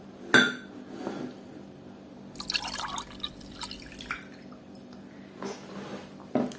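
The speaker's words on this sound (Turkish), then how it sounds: "Önce sütümüzü dökelim." Milk is poured into a dish for a food-colouring milk experiment, a short splashy pour in the middle surrounded by scattered clinks and taps of the dish and container, close by.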